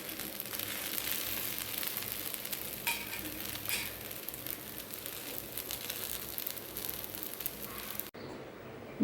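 A green gram dosa sizzles steadily on a hot pan just after flipping, a continuous close frying hiss with no talking, cutting off abruptly near the end.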